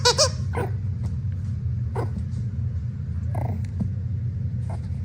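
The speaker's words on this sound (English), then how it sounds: "you can hear the other dog in the background" A dog barks in the background in a series of sharp barks spaced a second or so apart, the first ones loudest, over a low steady rumble.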